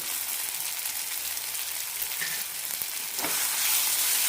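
Turmeric, coriander and garam masala powders sautéing in a pan for a kurma, a steady close sizzle and crackle with a brief stirring scrape partway through and no talking.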